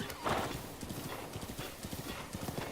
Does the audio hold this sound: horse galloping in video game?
yes